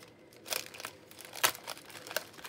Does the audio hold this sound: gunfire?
no